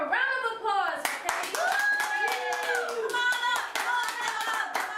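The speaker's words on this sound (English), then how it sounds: "Please, let's have a round of applause for" Audience applause for Caleb Quaye at an interview event: steady dense clapping from a crowd lasting the whole stretch, with a voice speaking over it near the start and tonal talk or cheers mixed through.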